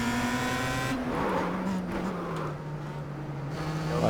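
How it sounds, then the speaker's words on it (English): A Star Mazda race car in iRacing at Homestead brakes hard with its tires locking up: a steady engine drone drops in pitch as a broad scrubbing, skidding hiss takes over, loud and continuous. "Lots of brake lockup, especially when the tires are cold."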